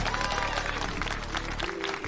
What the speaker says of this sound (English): Can we give a round of applause for Mylo?